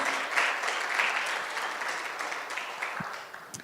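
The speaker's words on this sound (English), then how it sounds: "can we have a round of applause for Isabella and Figgy?" Audience applause for a guide dog graduate and her dog at a Guide Dogs for the Blind class graduation, a steady wash of many clapping hands at moderate distance, holding even for several seconds and thinning slightly at the end.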